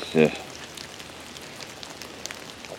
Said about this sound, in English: it's probably raining a little bit too hard